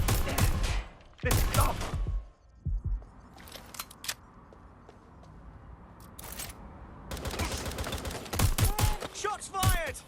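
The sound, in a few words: gunfire in the video game Watch Dogs: Legion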